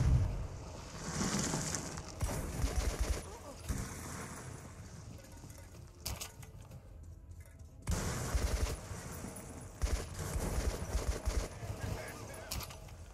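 AK rifle fire in Metro 2033 Redux, rapid automatic bursts of shots over a long stretch with brief pauses between them, moderately loud and mixed with in-game ambience and someone talking.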